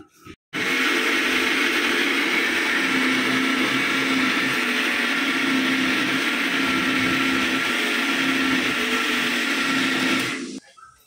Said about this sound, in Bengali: প্রথমে এই জিরাটা ব্লেন্ডার করব